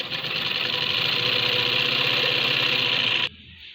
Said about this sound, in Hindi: आधे इंच का मार्जिन इस तरीके से दबा के और किनारे की सिलाई लगाते जाएंगे